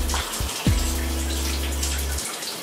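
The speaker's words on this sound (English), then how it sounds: "So, I'm starting off by using just hot water." Hot water runs from a tap for washing hair, a steady close rush with a low droning pipe hum that cuts out briefly near the start and then keeps flowing.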